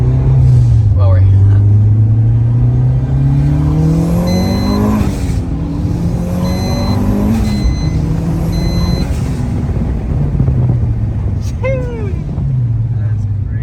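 A bagged Mitsubishi Evo X with new wheels and a new exhaust revs up and drops back repeatedly through downshifts, a loud, continuous engine drone rising and falling under excited voices talking over it.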